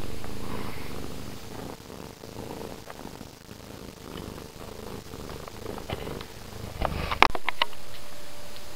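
A cat purrs close by in a soft, steady rhythmic rumble, ending with a few brief clicks and rustles.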